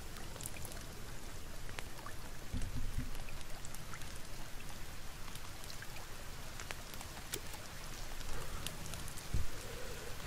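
Steady rain pours down in the survival game The Forest, a dense, even hiss of drops on surfaces that runs throughout with a few louder patters and thumps.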